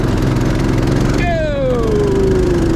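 A go-kart engine running loud and close with a steady putter, joined partway through by a descending whistle-like tone as the revs shift.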